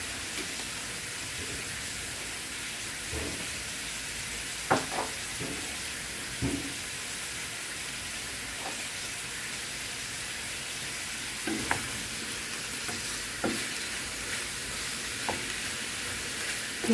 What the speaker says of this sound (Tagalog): hayaan natin magisa dyan sa sariling mantika